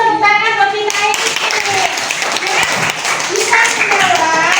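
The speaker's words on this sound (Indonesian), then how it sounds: "Kita isi tepuk tangan buat kita isi" Students in a classroom burst into a round of hand clapping that lasts about three seconds, loud and close, with a voice speaking just before and after.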